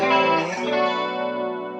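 An electric guitar runs through a Rowin chorus flanger phaser pedal, giving a smooth, sustained, sweeping tone. The chord rings out alone and fades slowly over about two seconds.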